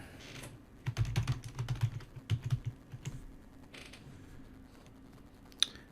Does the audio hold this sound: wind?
no